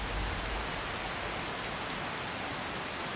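Rain falling in the video game Skyrim makes a steady, dense hiss of drops on surfaces, with a low rumble at the start and no voices.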